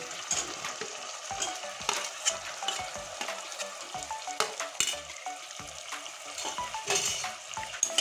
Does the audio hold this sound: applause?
no